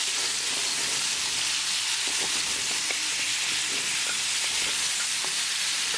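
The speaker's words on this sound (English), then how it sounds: "add frozen vegetables. Mix it well." Chicken thighs and frozen vegetables stir-frying in a pan over a medium gas flame, a dense, steady sizzle and hiss with occasional soft scrapes of stirring, loud and close.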